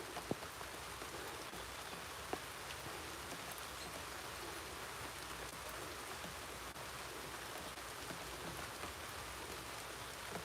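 Steady pouring rain falls on an outdoor village gym, a dense, even hiss of drops on surfaces that runs unbroken throughout, with one brief tap near the start.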